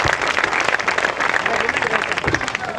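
An audience at a Samskar Bharati cultural gathering in Goa claps steadily: a full, dense burst of applause that stays loud and continuous for the short stretch, with a voice speaking over it.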